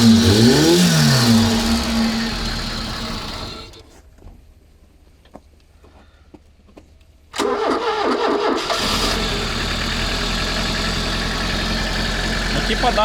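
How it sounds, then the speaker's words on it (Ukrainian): Ford Escort engine cranking on a weak starter, then firing up: loud whirring turnover, a quiet gap with faint clicks, then the engine catches abruptly and runs on steadily at a rough idle, with voices nearby. "навіть з учетом, як херово крутить стартер, воно заводиться"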